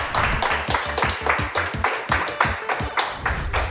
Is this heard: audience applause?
yes